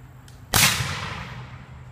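A single reenactor's musket fires at a Civil War demonstration at Stately Oaks in Jonesboro, one sharp outdoor crack followed by a fading rumble as it echoes away.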